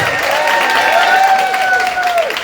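An arts festival launch audience applauds the cast of The Snapper, clapping continuing under a held, sliding voice-like tone that fades near the end.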